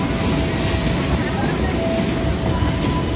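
Steady loud rumble and rushing noise from inside a local passenger train in Indonesia travelling between Sukabumi and Bandung, with a constant low roar and a faint high whine throughout.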